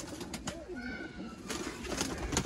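Pigeons cooing, likely a breeding pair shown by a Sialkot pigeon fancier, with soft repeated throaty coos up close over a busy outdoor background.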